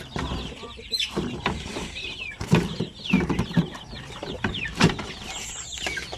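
Two-week-old Shamo Aseel chicks peep and cheep in a cluster of repeated high calls, close by, with occasional scuffling and thumps in the background.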